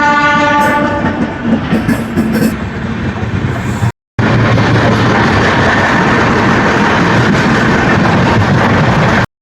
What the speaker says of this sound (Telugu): ఇప్పుడు వచ్చింది బండి ప్లాట్ఫామ్ మీదకి.